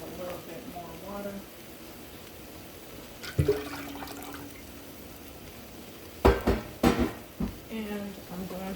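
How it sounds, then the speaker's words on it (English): Water poured into a cooking pot of jerk chicken in a home kitchen, a short splashing pour with a few clunks and sloshes, near and moderately loud among quieter kitchen handling sounds. "Add a little bit more water."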